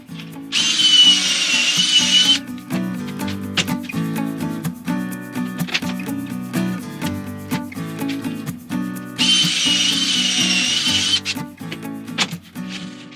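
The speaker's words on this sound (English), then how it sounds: "I'm going to attach the 2 pieces together with pocket screws" Power drill driving pocket screws to join wooden trailer bed pieces, two bursts of steady high-pitched whine at the start and again near the end, heard over loud background music.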